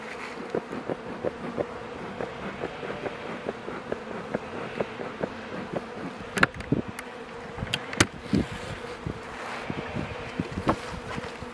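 Honeybees buzz steadily around an open beehive during a spring inspection, a dense close drone with scattered sharper clicks and knocks from handling the hive.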